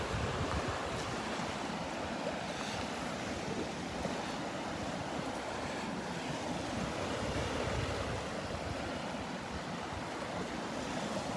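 Ocean waves rolling onto the beach at Delnor-Wiggins as the tide comes in, a continuous soft wash of surf with a light wind rumble, steady and unbroken, no voices.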